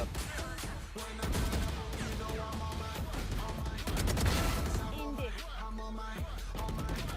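Rapid bursts of gunfire in the video game Valorant, dense overlapping shots and automatic fire with game effects under it, steady and fairly loud throughout, with a player's voice briefly heard.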